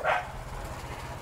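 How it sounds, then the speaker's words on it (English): Dog barking from behind a gate in a Thai neighborhood in Chiang Mai, a single short loud bark at the start that trails into quiet background noise. "make sure that dog's behind that gate."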